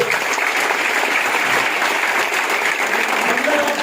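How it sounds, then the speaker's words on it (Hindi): Audience applause at a motivational life-journey talk, a continuous loud crowd clapping that holds steady throughout, with possible faint voices mixed in. "जोरदार तालियां होना चाहिए"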